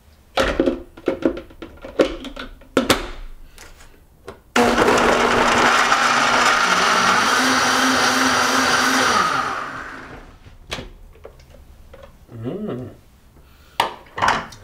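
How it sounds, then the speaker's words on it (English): A blender roars loudly for several seconds blending a green smoothie, then winds down, with clattering and knocks of kitchen items before and after. "And we blend."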